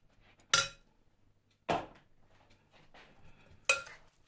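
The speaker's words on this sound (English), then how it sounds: "And now keep stirring it, keep mixing it, make sure it mixes very, very well." A spoon knocks sharply against a bowl three times at uneven intervals while an oats and dried fruit biscuit mixture is mixed, with quiet scraping between the clear, close clinks.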